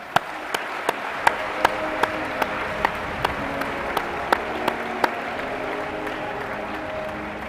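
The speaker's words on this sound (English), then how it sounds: "please join me in a big round of applause for all of our awardees" Audience applause for awardees at the International Astronautical Congress in Baku; a steady, dense wash of clapping across a large hall, with a few sharp, close claps standing out at a regular beat and faint crowd murmur beneath.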